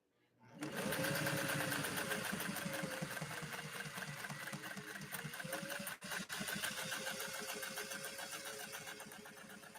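A 1962 Singer 500A sewing machine stitching leather, a steady fast mechanical whir with rapid needle clatter, close and loud, running continuously with one brief dip midway.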